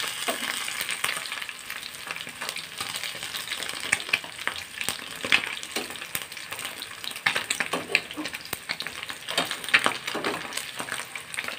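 Whole fish frying in hot oil in a home kitchen, a dense continuous crackle and sizzle with scattered louder pops, close and steady throughout.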